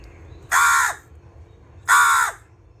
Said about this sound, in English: seeing how this crow is so loud